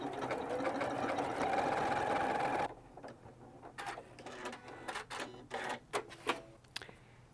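A Janome 9410/9480 sewing machine stitching on stabilizer runs with a steady, rapid mechanical whir for a few seconds, then stops, leaving scattered clicks and small handling knocks close by.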